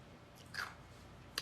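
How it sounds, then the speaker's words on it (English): Someone bites down on ice cubes, giving two short, faint crunches about a second apart against quiet room noise, with no talking. "Listen to me crunch my ice."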